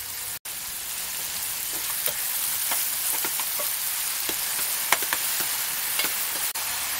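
Chopped onions sauté in oil with a pinch of salt for a Hyderabadi egg drop fry, giving a steady, close sizzle dotted with crisp crackles and pops throughout, with no talking.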